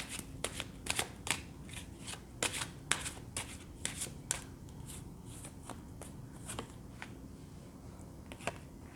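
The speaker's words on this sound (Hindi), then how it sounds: "जब तक मैं कार्ड शफल कर रही हूँ" Tarot cards are shuffled by hand nearby, soft crisp riffling flicks and taps in quick irregular bursts, fairly quiet against a faint steady background hum.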